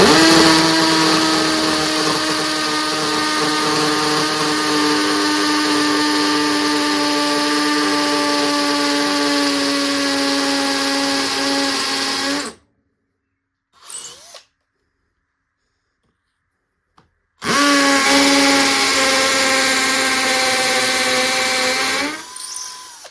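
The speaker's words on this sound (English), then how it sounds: "the drill does a pretty good job of getting through the brick wall" A cheap Temu hammer drill bores into a brick wall with a loud, steady whine for about twelve seconds, stops, then gives a brief burst and another long run near the microphone.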